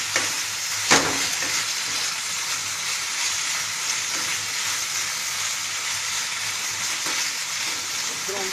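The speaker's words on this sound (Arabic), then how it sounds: "عايزه البصل يدبل مع اللحمه كده" Onions frying together with meat in a pot, a steady, dense sizzle that runs without a break, with one brief clink near the start and no talking.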